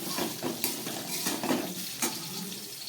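Banana flower frying in a pan with coconut and chickpeas, stirred with a utensil: steady close sizzle with repeated scraping strokes and light clinks of metal against the pan, no voices.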